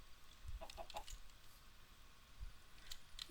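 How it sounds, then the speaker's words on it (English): A chicken clucks softly in the Minecraft modpack Craftoria, a few faint short clucks against quiet game ambience, with a couple more near the end and no talk. "Chicken."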